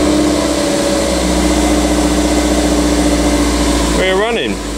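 A car engine fitted with a starter button runs and idles, a loud, steady low rumble close by with a constant tone throughout, and a voice speaks briefly over it near the end.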